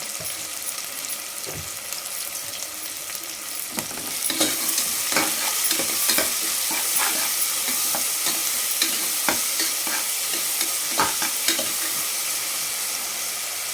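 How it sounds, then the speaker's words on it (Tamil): Onions with a little salt fry in a pan for tomato rice, a close, steady sizzle broken by repeated scraping stirs of a spoon, with no talk. "வெங்காயம் வதங்கிச்சிங்க."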